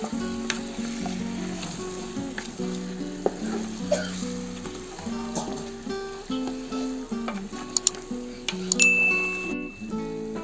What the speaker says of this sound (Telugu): చికెన్ వేసుకొని ఇప్పుడు కలుపుకున్నాము. బాగా మిక్స్ చేసుకోవాలి.